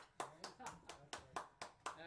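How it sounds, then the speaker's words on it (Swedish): A small audience claps at a live home concert, several distinct claps in a slow, even rhythm, fairly faint and close. "applådera då."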